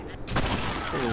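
A short burst of rifle gunfire from a shooter video game, loud and close, with a voice briefly in the background.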